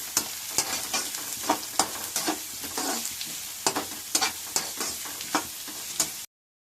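Chopped carrot and vegetables stir-fried in a pan for fried rice, a loud continuous sizzle punctuated by regular, close spatula scrapes and knocks against the pan.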